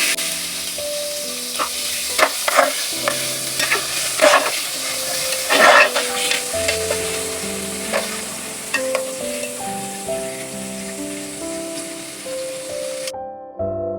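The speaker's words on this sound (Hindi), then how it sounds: "अब हम इसको गोश्त को तेल में डालकर अच्छे से फ्राई कर लेंगे, पका लेंगे ताकि इसका कच्चापन खत्म हो जाए।" Beef slices sizzle and fry in hot oil while being stirred, giving a continuous hiss with repeated scraping stirs and louder bursts, and background music plays throughout.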